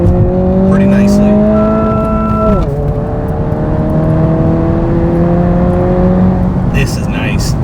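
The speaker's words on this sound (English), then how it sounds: "Once you start getting in higher second to third, the car really starts pulling." A car with a stock clutch and stock power accelerates hard, engine pitch climbing steadily, dropping at the shift from second to third, then rising again, loud and close inside the cabin.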